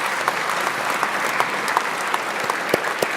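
Steady applause from a graduation ceremony crowd honoring the deans and staff, a dense wash of clapping that holds evenly throughout with scattered sharper claps.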